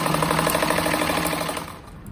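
A sewing machine joins patchwork squares for a table runner. It gives a close, rapid, rhythmic stitching chatter that runs steadily, then slows and fades near the end.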